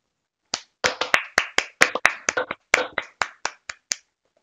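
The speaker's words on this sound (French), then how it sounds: "Applaudissez le grand champion." A single person claps sharply and unevenly in celebration of a champion after a Minecraft PvP arena match, about fifteen crisp, close claps in an irregular rhythm, alone without talk.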